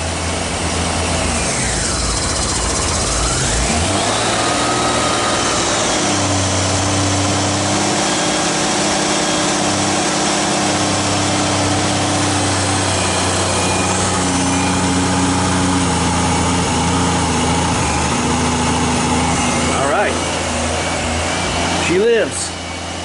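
A 1996 Honda Goldwing GL1500 motorcycle engine running at high idle on choke, a loud, steady drone held throughout with brief pitch sweeps and a sharp rise near the end, people talking over it.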